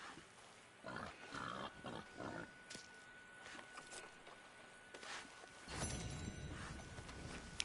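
A boar grunting in the Red Dead Online video game, a series of short rough grunts and snorts in bursts over a few seconds, fairly close, alongside some game noise and no speech.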